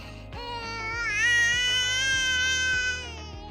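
A crying sound effect from a video editor's effects library: a wailing, pitch-bending cry rising and falling over a rhythmic musical backing, loud and close.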